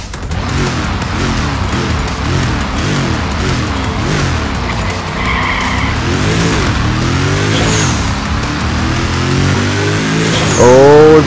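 Jaguar race car in the racing video game Nitronation, engine roaring and revving steadily with rising and falling pitch as it accelerates, tires squealing in skids near the end, loud and continuous throughout.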